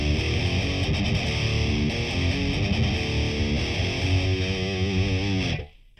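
Heavily distorted electric guitar riffing through a Boss Katana amp with its chorus effect engaged, dense and steady for about five and a half seconds before cutting off abruptly.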